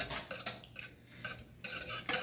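Egg yolk is mixed into rainbow pancake batter, with quick bursts of a utensil whisking and clinking against a bowl, separated by a short pause, close and fairly loud, no talking.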